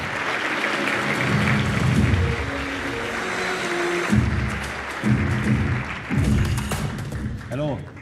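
A crowd applauds as FIFA President Gianni Infantino is welcomed to the stage at a FIFA World Cup 2026 schedule presentation. Continuous clapping is overlaid by booming thuds and bursts of stage music.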